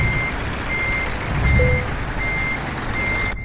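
In Euro Truck Simulator 2, a truck's reversing alarm sounds as a steady series of high, regular beeps over a low engine rumble.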